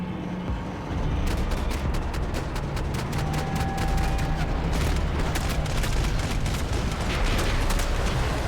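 Rapid gunfire in Max Payne 3, a dense run of sharp shots over a heavy rumbling background that keeps going without pause, with no voices.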